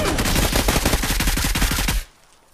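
Rapid automatic gunfire in PUBG, a loud burst of about twenty evenly spaced shots in quick succession that cuts off sharply, leaving near silence.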